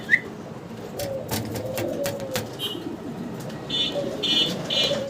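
Fancy pigeons, including a Teddy squab, coo repeatedly at close range, soft rolling calls rising and falling across the stretch with a few higher chirps and whistles mixed in.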